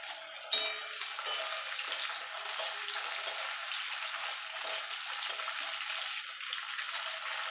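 Potato and tomato fry in a pan with a steady, bright sizzle, punctuated by several sharp clicks of stirring, close and without talk.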